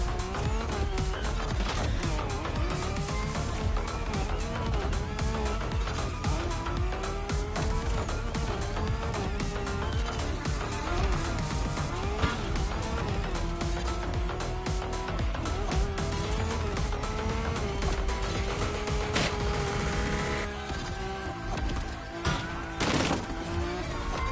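Race cars roaring through a sprint race in The Crew Motorfest, with loud, continuous engine drone and shifting pitch that rises and falls across the run, plus occasional bursts near the end.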